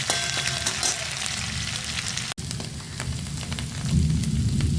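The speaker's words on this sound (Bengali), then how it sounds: "তেল দিয়ে আমি মশলাটা ভাজবো। পেঁয়াজ আদা রসুন দিয়ে দিলাম বাটা।" A paste of onion, ginger and garlic hits hot oil in a heated pan and fries with a loud, steady, crackling sizzle that stays close and continuous, briefly cut off once, with no voices.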